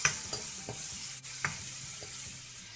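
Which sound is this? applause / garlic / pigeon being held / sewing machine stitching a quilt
garlic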